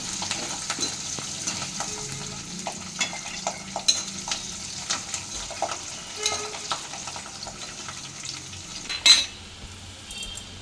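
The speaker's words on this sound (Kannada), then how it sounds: "ಒಂದು ಗೆಡ್ಡೆ ಬೆಳ್ಳುಳ್ಳಿ, ಒಂದು ಸ್ವಲ್ಪ ಫ್ರೈ ಆಗಲಿ" A clove's worth of garlic with curry leaves fries in a little oil for an onion chutney, giving a soft, even sizzle broken by occasional light scrapes and clinks of a spoon against the pan.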